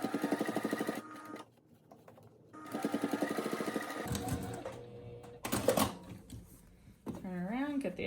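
Sewing machine running in rapid bursts of stitching as fabric for a four-layer face mask with a filter pocket is sewn, close and loud, with pauses and a voice talking between runs.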